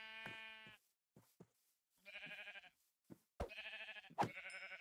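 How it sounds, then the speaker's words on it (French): Sheep bleating in the video game Minecraft: several wavering bleats with soft clicks and a few sharp thuds between them, fairly quiet and with no talking. "Ah, oh, c'est un mouton."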